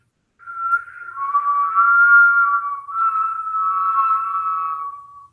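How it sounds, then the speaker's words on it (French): Steady breath whistling through the mouth during a Kundalini kriya yoga exercise, sustained on both inhale and exhale, clear and close with a brief break between breaths. "on va siffler à travers la bouche. On siffle quand on inspire et on siffle quand on expire"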